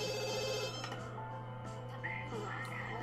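A cell phone rings in The Sims 2, a steady electronic tone pattern repeating under game music and ambient sound, with a faint voice toward the end.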